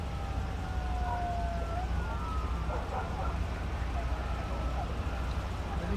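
An ambulance siren wails at a distance on the streets of Bakersfield, its pitch sliding up and down over steady traffic rumble and background noise.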